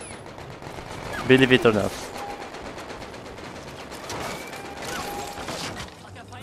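Burst of rapid automatic gunfire in Medal of Honor: Above and Beyond, a short loud rattle near the start, followed by quieter distant shots and background noise while a person talks briefly.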